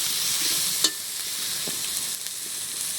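Fish pieces with salt, turmeric and chili powder sizzling in an oiled pan while being stirred, a continuous close frying hiss with a sharp utensil scrape partway through.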